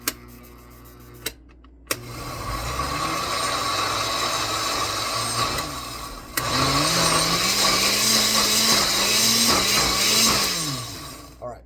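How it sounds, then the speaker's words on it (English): Nutraloaf ingredients are ground in a loud motorized grinder or blender, whining steadily for several seconds, stopping briefly and then starting again with a rising and falling pitch, after a few sharp clicks at the start. "we're gonna start grinding it up here"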